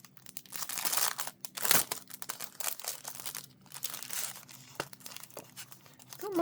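Thin, flimsy art paper from a subscription box crinkles and rustles up close, with irregular crackling handling noises and a few sharper crunches.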